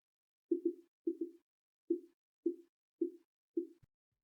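A soloed MIDI kick drum through an EQ band cut, six short dull thumps, two of them doubled, spaced across a few seconds, dry and isolated against silence.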